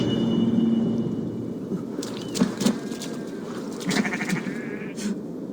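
Sheep bleating on a farm in the video game Assassin's Creed Valhalla, several short bleats from nearby animals over a low outdoor ambience.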